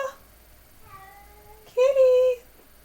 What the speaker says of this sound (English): I hear my kitty.